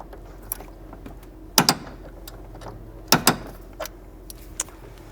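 A torque wrench tightening a torque arm bolt on a Porsche Cayenne 955/957 to 46 foot-pounds, with two pairs of sharp metallic clicks and a few lighter taps in a quiet garage.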